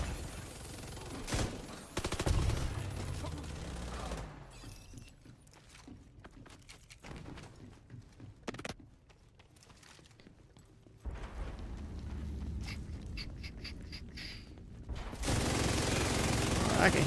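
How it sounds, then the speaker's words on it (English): Automatic gunfire from the player's gun in The Division 2, bursts of rapid shots mixed with game sound effects and occasional voices, busier and louder near the start and end. "I can hear my gun go burr"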